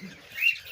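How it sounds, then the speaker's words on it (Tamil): Cockatiels at a large bird farm in Tirunelveli give a brief, bright chirp over faint background rustle and distant aviary noise. "இங்கே நிறைய காக்டெயில்ஸ் கூட இருக்கு மேன்"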